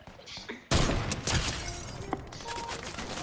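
Gunfire erupts in Fortnite, a sudden loud burst of shots and impacts with rapid cracks and thuds. Heavy, continuous action noise follows, with a voice faintly underneath.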